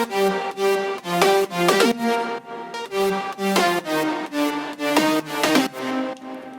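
A synth melody over chords in an electronic dance drop: bright, gliding lead notes in a bouncy, pulsing rhythm over sustained chord stabs, loud and up close with no voices.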